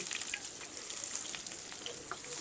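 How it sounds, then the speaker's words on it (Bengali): Chopped onion and garlic frying in hot oil with black cumin, a steady close sizzle and hiss with small crackling pops, no talking. "পেঁয়াজ আর রসুনটা এখন আমি কালো জিরার সাথে ভেজে নেব।"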